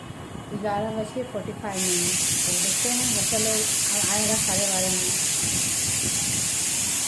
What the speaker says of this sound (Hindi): सीटी लग गया